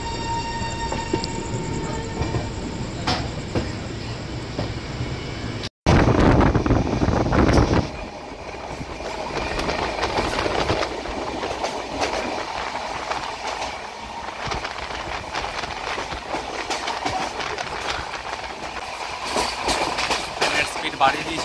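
Late-night overnight express to North Bengal running at high speed, around 120 km/h, with a steady heavy rumble of wheels and carriage, a loud roaring surge partway through, then a continuous rattling drone.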